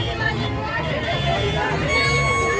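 A busy crowd at a jalvihar festival fair (mela) fills the air with a steady babble of many voices and chatter, close and continuous, with people talking nearby.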